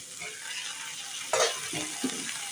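Chopped chillies and tomatoes sizzling in a pan of onions under a steady frying hiss, with a louder splash and hiss as ingredients drop in and a couple of softer stirring knocks.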